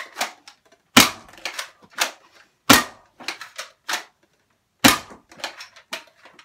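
An Adventure Force Aeon Pro toy foam blaster fires several sharp snapping shots at uneven intervals, each followed by the clicks and rattles of priming the mechanism.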